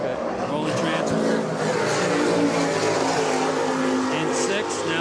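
Naturally aspirated Super Cat race boat engines roar in a steady, loud, continuous drone during an offshore powerboat race, with commentary voices mixed underneath.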